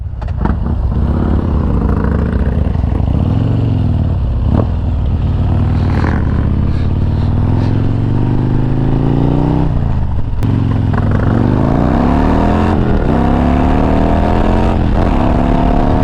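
A 2023 Harley-Davidson Road Glide engine revving close by, a loud, continuous rumble that rises and falls through several throttle blips over the whole stretch.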